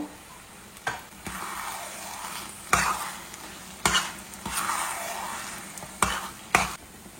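Ash gourd halwa cooked in ghee being stirred with a large spoon, several sharp scrapes against the pan over a low bubbling sizzle, up close.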